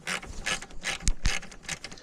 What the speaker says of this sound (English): So a flex head ratchet in scenarios like this is so nice.